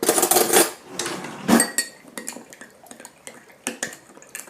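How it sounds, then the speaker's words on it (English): A spoon stirs sugar into a jalapeno mixture in a dish, a run of close, bright scraping clinks against the bowl with short pauses between strokes. "2 tablespoons of sugar in there. I'm going to give it a little mix."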